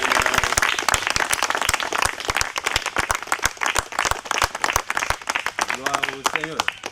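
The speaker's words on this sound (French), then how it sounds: "acclamer très fort pour lui." Church congregation at a baptism service clapping loudly, a dense, sustained applause of many hands with sharp individual claps throughout, and a voice rising above it near the end.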